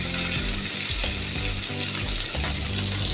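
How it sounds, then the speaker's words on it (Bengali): Poa fish frying in a pan of oil, a dense, steady sizzle close up with faint intermittent crackles and soft pan sounds running throughout. "মাছ ভাজাটা বসায় দিচ্ছি আমি দেখেন মাছ ভাজাটা হতে আসছে"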